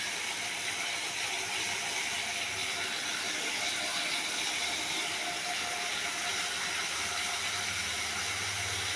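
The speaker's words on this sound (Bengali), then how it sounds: "হ্যাঁ, মশলাটা কষবো, ঠিক আছে।" Spice masala frying in a pan for aloo dum, a constant close, even sizzling hiss that continues unbroken.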